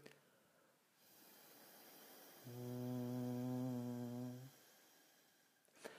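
A singer imitates a foghorn through a straw as a vocal warm-up, holding one steady, buzzy low tone for about two seconds in the middle, with soft breath before and after.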